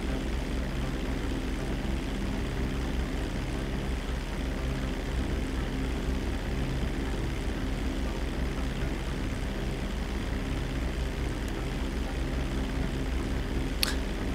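A propeller airplane in GTA5 droning at a steady pitch while in flight, a continuous, even engine hum with no breaks and no voices.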